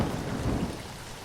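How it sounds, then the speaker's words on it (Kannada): Heavy rain pours during a thunderstorm near a temple, a steady broadband hiss and roar of falling water with a faint low rumble, brief and fairly distant, with no voices. "ನೋಡ್ರಿ ಮಳೆ ಹೆಂಗೆ ಹೊಡಿತಾ ಇದೆ."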